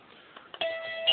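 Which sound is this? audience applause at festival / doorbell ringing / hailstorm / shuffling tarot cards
doorbell ringing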